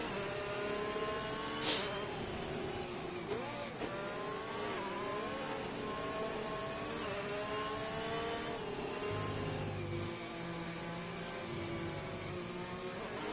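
Race cars accelerating away at a safety car restart in an Austrian Grand Prix, engines revving and whining as the field pulls off, a sustained layered roar with pitch sweeps, moderately distant.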